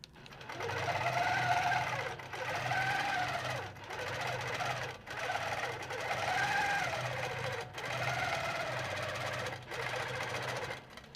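Longarm quilting machine stitching a pantograph pattern across a quilt, a steady mechanical whir with rapid needle chatter running in long passes separated by brief pauses, close and fairly loud with no talking.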